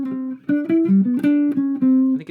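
Guitar plays a melodic line of clear single notes stepping through a major scale, with the phrase dropping an octave partway; the notes are close and bright with nothing else heard.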